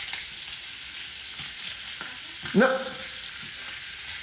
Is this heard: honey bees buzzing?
no